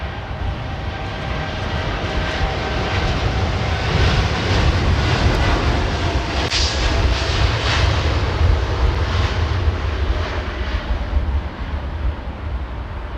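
Steady, loud jet engine roar from an airliner at London Heathrow Airport, a continuous broadband rumble that swells slightly midway and holds without letting up, with no voices.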